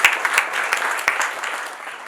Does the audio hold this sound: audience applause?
yes